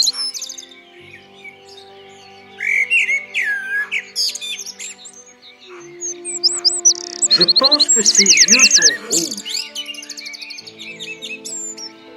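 A white albino blackbird sings in a bright, varied run of warbled phrases and chirps, with a quiet voice talking early on and the song growing louder and denser toward the end.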